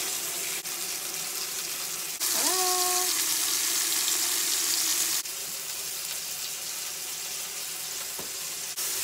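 Pork chops frying in a hot pan give a steady, broadband sizzle throughout, swelling louder for a few seconds midway with a brief tonal squeak, then settling back to a constant close hiss.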